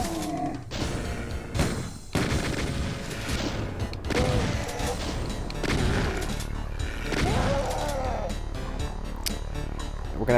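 Rapid gunfire cuts down imps and chaingunners in Doom 2: TNT Evilution, Level 21, Administration Center, with repeated shots, thuds and booms over moderately loud, busy game noise and music.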